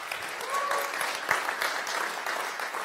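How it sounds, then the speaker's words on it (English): Audience applause for Zoe, a member of an innovation team, at a talk on farming, data and machines: a brief burst of clapping from a modest crowd that swells and holds steady. "Big applause for Zoe."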